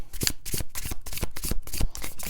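Tarot cards shuffled by hand in a tarot reading, a run of close, loud riffling bursts in quick succession, roughly five or six, with no voices.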